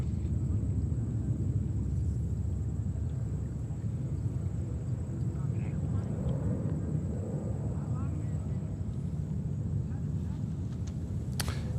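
A heavy airliner taxiing toward runway 13 at New York's JFK Airport, a steady low engine rumble that holds unbroken throughout, with wind buffeting the microphone.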